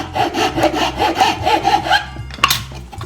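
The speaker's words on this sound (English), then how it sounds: "Take my file, flatten that out" A hand file rasps back and forth across the wooden neck opening of a cigar box guitar in a steady rhythm of about a dozen close, scratchy strokes.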